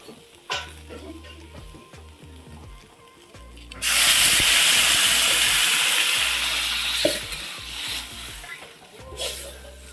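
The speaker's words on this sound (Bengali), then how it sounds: "তো ফাইনালি বন্ধুরা এখন দিয়ে দেবো জল" Water is poured into a hot pan of sizzling dhaba-style masoor dal tadka with chillies, setting off a loud, sustained hiss and steam roar that slowly fades. Softer stirring and clinking come before and after.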